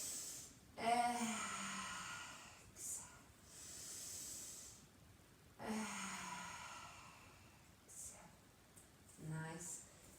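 Slow, forceful breaths pushed out through the mouth during a calf exercise: long airy whooshes repeated at intervals, close and clear, with a voice speaking between them.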